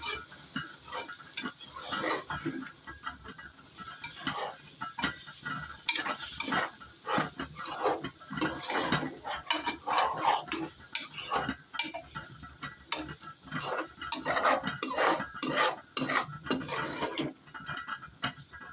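A mushroom and egg stir-fry is stirred in a pan, producing a run of rhythmic scraping and tapping strokes over a low sizzle, close and moderately loud, with no voices.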